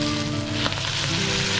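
Meat sizzling in hot butter in a pan for sisig, a steady, close, even frying hiss with no talking.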